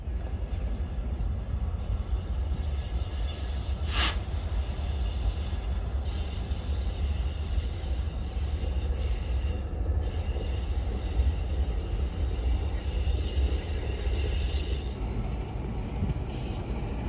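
A BNSF local freight train at Galesburg yard, led by a long-hood-forward locomotive, rolling past as a steady low rumble of wheels and cars, with a brief sharp squeal and metallic clanks over the constant drone, no voices.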